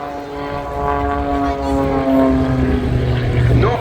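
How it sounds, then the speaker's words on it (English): A one-off Pitts S2S aerobatic biplane with a Lycoming piston engine and two small gas turbines flies a display at an air show, its loud droning propeller tone with steady harmonics sweeping in pitch as it climbs. "Not just the standard Lycoming engine at his disposal, but also two small gas turbines."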